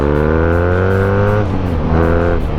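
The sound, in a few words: BMW Urban G/S 1170 cc boxer motorcycle engine accelerating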